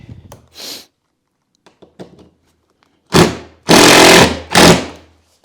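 A power drill drives screws into a wooden coffee table form in several short, loud whirring bursts close by, separated by quiet pauses and a few faint knocks.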